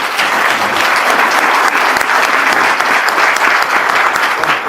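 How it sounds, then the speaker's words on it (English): Audience at an immigration lecture applauds the panelists, a dense, steady wash of clapping that stays loud and even throughout with no voices over it. "let's give a round of applause to our panelists."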